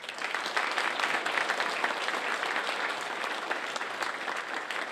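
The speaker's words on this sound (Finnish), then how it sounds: "vielä kerran ihan kaikille kilpailijoille aplodit." Audience applause for the competitors at the Finnish national lying championship, a steady, even wash of many hands clapping at a moderate distance with no voices over it.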